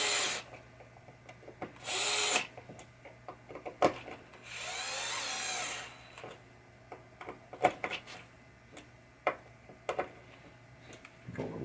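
Power screwdriver driving two screws into a pop bumper on a 1967 Williams Blast Off pinball machine, two short whirring bursts among clicks and handling noises, close and fairly quiet.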